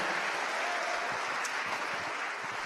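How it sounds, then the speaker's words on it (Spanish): Church congregation clapping during a sermon, a dense, steady wash of many hands applauding together without pause, moderately loud. "Démosle palmas al Señor"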